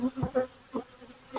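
Honeybees buzzing around a hive frame during a colony inspection, short close buzzing bursts that come and go over a quiet background.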